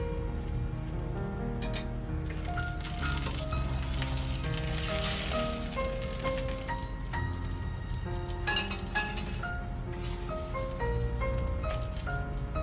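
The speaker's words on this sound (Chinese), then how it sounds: "每个饼烙了6分钟" Hand-torn layered flatbread cooks in a pan on an induction cooker, giving a steady close sizzle with scattered crackles and pops throughout.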